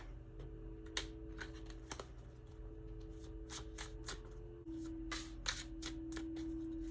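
Tarot cards are shuffled by hand in a series of quick, crisp riffling bursts, close up and alone over a faint steady hum.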